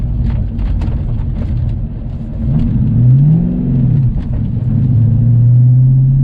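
A manual-transmission car in second gear, a loud steady engine drone from inside the cabin with the pitch rising and falling as it accelerates.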